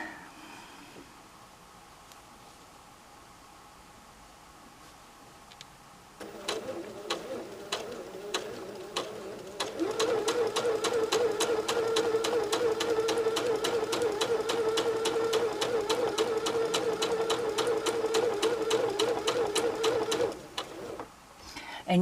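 Sewing machine stitching straight lines on a quilt, starting up with a soft whir, then running fast with a steady, loud, rapid needle chatter for about ten seconds before stopping.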